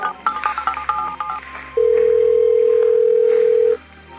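A telephone keypad beeps through a quick series of dialing tones, then a steady single ring tone holds for about two seconds over faint room noise, with no talk.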